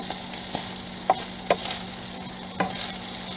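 Food is stirred and mixed in a frying pan during RV cooking for tacos, a soft continuous sizzle broken by a few distinct utensil scrapes and taps against the pan.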